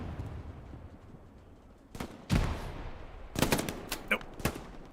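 Bursts of machine-gun fire from the Hell Let Loose video game, during a competitive 36 versus 36 match on the SME Church map, crackle in short volleys against a quiet background, some sharp and nearby, others more distant.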